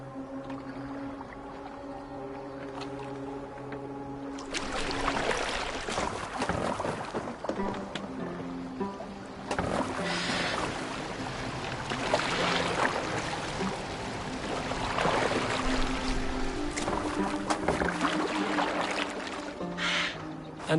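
Water washes and splashes around a steered Viking boat in Assassin's Creed Valhalla, a broad rushing surge over low droning game music, swelling and easing repeatedly across the scene.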